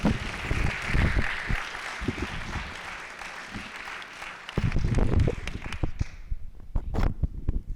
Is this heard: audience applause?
yes